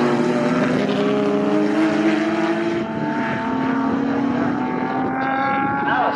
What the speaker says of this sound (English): James Slaughter racing in the Franken Jean car, which was campaigned in the Dutch Touring Car Championship.